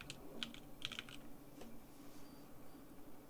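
Key clicks from typing a short search on a computer keyboard, quick bursts of taps in the first second and one more near 1.6 s, then quiet room hiss with no talk.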